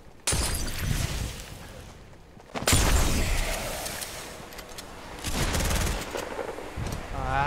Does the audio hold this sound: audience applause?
no